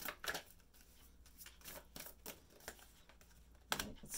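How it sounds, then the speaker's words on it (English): Quiet riffling and snapping of cards being shuffled, in several short bursts with brief pauses, close by and with no talking. "These cards are kind of hard to shuffle."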